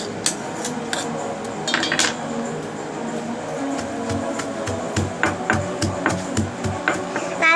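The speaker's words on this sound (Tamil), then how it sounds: "இந்த மாதிரி இடுக்கியில் தான் அரைக்குவேன், மிக்சிலலாம் நான் அரைக்க மாட்டேன்." Spices pounded by hand in a small metal mortar and pestle rather than a mixer, giving repeated sharp metallic clinks and knocks in an uneven rhythm, close and fairly loud, with no talking.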